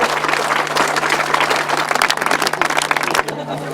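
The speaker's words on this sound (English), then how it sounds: "let's give a big round of applause" Crowd clapping for riders at the 2009 Mick Steer Memorial grasstrack meeting, dense steady applause over a constant electrical hum from the public address, with a voice speaking under it.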